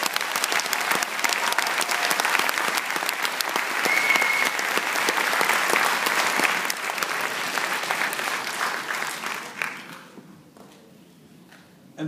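Theatre audience applauding the child actors, dense sustained clapping filling most of the stretch before thinning out and fading near the end.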